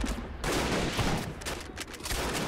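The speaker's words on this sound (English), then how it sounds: "Mortars still have plenty of ammo, clearing the enemy out." Rapid mortar and gunfire explosions crackle and boom densely in a World War II battle game, one heavy burst after another with no pauses.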